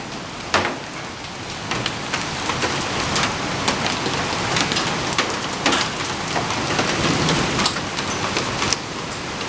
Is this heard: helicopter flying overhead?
no